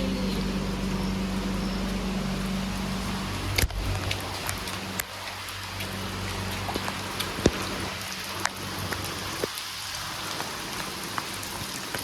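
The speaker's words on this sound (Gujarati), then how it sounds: "વરસાદ ન આવ્યો. હવે આવ્યો." Steady rain falls in a continuous broadband hiss, with a low hum underneath and a few sharp knocks and taps scattered through it. No voices.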